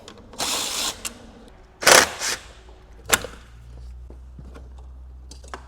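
Tools clatter and ratchet while a headlight is removed from a wrecked B8.5 Audi S4, with a few sharp metallic bursts and knocks up close, then quieter handling.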